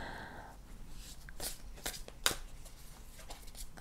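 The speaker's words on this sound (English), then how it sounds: "am I going to shuffle them all at once?" Oracle cards are shuffled by hand, a run of soft riffling and sharp papery slaps at an uneven rhythm, close and quiet with no speech.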